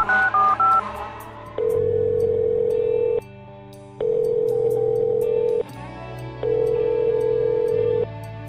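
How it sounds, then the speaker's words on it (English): A cell phone number being dialed: a quick run of keypad tones at the start, then three long steady ringing tones separated by pauses, loud and clear with no talk. "dialing a number on it"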